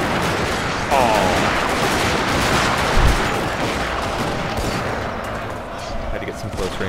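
Close-range gunfire in a Shogun 2: Fall of the Samurai online battle, a dense, sustained crackle of rifle volleys with a heavier boom near the three-second mark, continuous and loud throughout, with a voice briefly heard over it.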